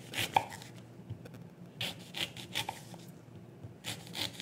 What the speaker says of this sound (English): using a knife, I'll just slice through and do very thin slices vertically through that pear